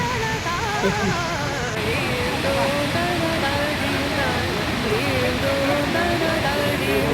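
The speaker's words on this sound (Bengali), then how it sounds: "এরকম একটি সুন্দর ঝর্ণা অপূর্ব ঝর্ণাটা দেখুন" A mountain waterfall beside the Amarnath pilgrimage trail between Seshnag and Panchtarni roars in a steady, dense rush that never lets up. A voice talks over the falling water throughout.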